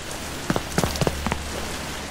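Rain in the Coast Guard game patters steadily with a soft hiss, punctuated by several close, distinct drips and taps on a surface in quick succession.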